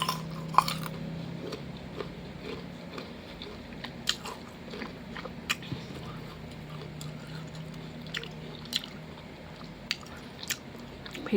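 Crisp guava eaten with sweet fish sauce gives close, repeated crunchy bites and moist chewing in an irregular rhythm, with quiet room sounds between the bites.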